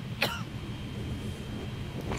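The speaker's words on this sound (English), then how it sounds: "Recognize your cough." A man's cough from a Breaking Bad scene, one short sharp burst near the start and another brief one at the end, set against a quiet low background hum.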